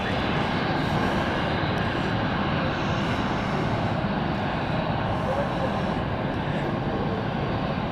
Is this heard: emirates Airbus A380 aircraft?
yes